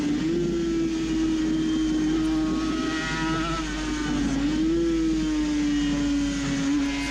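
A Suzuki RG500 two-stroke racing motorcycle engine drones loudly and steadily, close up on board at low revs as the clutch slips, rising slightly in pitch and then settling, with no voices.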